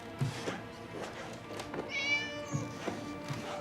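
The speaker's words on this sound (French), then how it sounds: "C'est le chat qui s'appelle Hulda." A cat meows several times in short, plaintive calls, close by, with one higher drawn-out cry in the middle.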